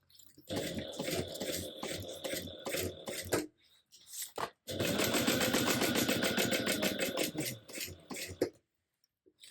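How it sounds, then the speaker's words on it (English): A sewing machine top stitches bias binding on a tote bag at a quarter-inch seam allowance, its motor whirring in two steady runs separated by a short stop near the middle. "we're going to go ahead and top stitch this the whole way down at a 1/4 inch seam allowance."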